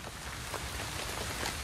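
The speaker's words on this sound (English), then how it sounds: "In the night, rain begins to fall." Steady rain falls at night in a dense, even hiss of drops on surfaces, close and constant throughout with no voices.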